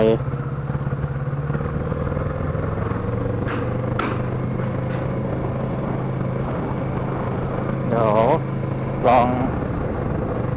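A Kawasaki Z650 motorcycle accelerates on a street, its engine a loud, steady droning hum that rises and swells near the end.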